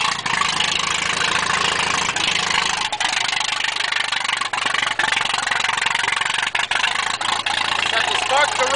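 A Farmall tractor engine runs at a steady, loud idle with the choke off, a dense continuous rumble with slight unevenness throughout.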